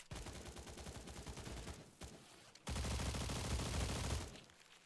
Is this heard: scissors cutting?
no